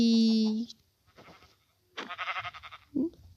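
A single loud sheep bleat from a video game opens, followed by quieter shuffling sounds and brief speech-like bursts.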